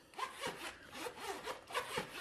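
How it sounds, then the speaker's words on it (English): Repeated zipping of the all-around zipper on a vegan leather cash envelope wallet, several close, rasping pulls in an even rhythm with no talking. "Yes, I love the zipper."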